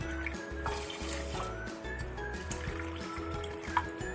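Water pours from a measuring cup into a pot of sugar for gujia syrup, a soft continuous splashing trickle, quiet and close with faint kitchen background.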